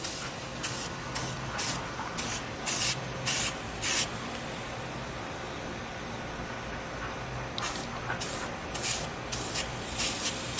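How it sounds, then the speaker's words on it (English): Short bursts of spray paint hiss in quick repeated pulses onto wooden dowels, pausing for a few seconds midway before the rapid spraying resumes. "after you spray paint the dowels"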